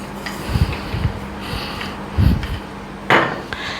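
Knife cutting through rolled egg puff dough on a board, giving several dull thuds and taps spaced unevenly, close and fairly loud with no talk.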